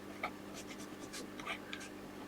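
Chalk or marker strokes on a lecture board, a few short faint scratchy taps and squeaks at a distance in a quiet room.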